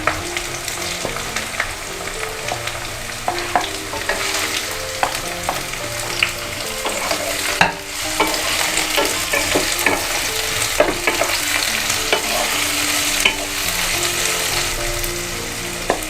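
Chopped onions stir-fry in a pan for a grilled vegetable sandwich, a loud continuous sizzle broken by frequent metallic stirring clinks and scrapes, with no talking.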